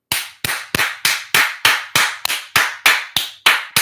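Twelve sharp, evenly spaced hand claps from a single person, loud and close, each with a short ringing decay into a reverberant room, no talking.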